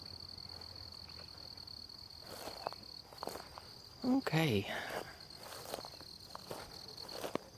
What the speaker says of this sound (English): you can already hear the bugs and crickets and stuff.